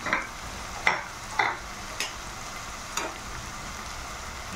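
Chopped garlic and green chili frying in oil for a pumpkin and dried fish charchori, a steady soft sizzle punctuated by several sharp spatula scrapes and clinks against the pan, with no talking.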